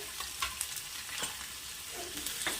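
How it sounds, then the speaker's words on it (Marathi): Finely chopped onion, with cumin added, sautés in a pan, giving a soft, continuous sizzle broken by faint stirring scrapes at a low level. "असं परतून घेऊ आपण कांद्याला"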